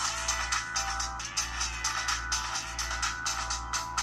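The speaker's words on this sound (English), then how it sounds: "This is one of the sample songs I was given." A sample song plays through the small built-in speaker of an HTC HD2 phone at maximum volume, with a pulsing rhythmic beat and a thin, tinny tone.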